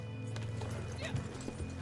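Horse hooves clip-clopping along in Red Dead Online, a short close burst of steady hoofbeats with a brief whinny, under a constant low game hum.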